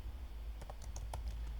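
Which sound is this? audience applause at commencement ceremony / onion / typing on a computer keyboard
typing on a computer keyboard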